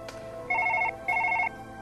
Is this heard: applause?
no